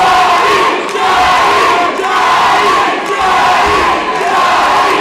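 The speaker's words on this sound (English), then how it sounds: "Tides have turned as everybody is cheering for Johnny now." A loud crowd at a Texas Clash Fight Night event cheering and chanting in steady rhythmic waves, roughly once per second, filling the space continuously.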